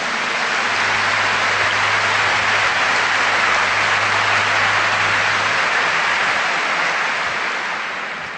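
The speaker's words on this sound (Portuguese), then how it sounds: "Give the Lord a big clap for that." A church audience claps for the Lord during a priest's bilingual sermon, dense, sustained applause like heavy rain, loud and even from start to finish before easing slightly at the very end.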